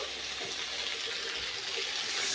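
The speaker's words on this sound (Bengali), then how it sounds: "এবার মশলা ধোয়া জলটা দিয়ে দেবো" Spice-rinsing water poured into a pan of curry for khoira fish, a steady close gushing rush of liquid that grows slightly louder toward the end.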